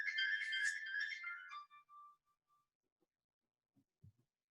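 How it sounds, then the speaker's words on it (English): A mobile phone ringtone plays a bright melodic chime loudly for under two seconds, then cuts off and trails into a few faint tones and quiet room noises during a mediation lecture. "I don't have my phone turned off"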